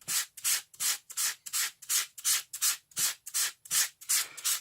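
Sandpaper rubbed back and forth across the backs of playing cards to clear glue residue, a steady run of about a dozen even, close scratchy strokes with no talking.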